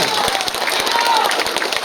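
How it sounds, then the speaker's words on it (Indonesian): Applause at an outdoor village campaign rally in West Nusa Tenggara for a candidate: a dense, steady patter of clapping from a crowd, continuous and fairly loud for the whole short stretch. "Tepuk tangan yang meriah untuk Abdul Rahim SD."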